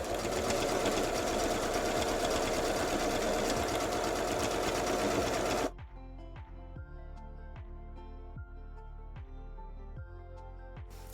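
A sewing machine quilting straight stitch lines runs steadily close by. A loud continuous whir gives way midway to a quieter, clearly rhythmic mechanical ticking of the needle.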